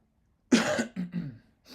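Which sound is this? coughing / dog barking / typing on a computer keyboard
coughing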